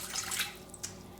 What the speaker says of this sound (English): I'm going to pour the water into a plain saucepan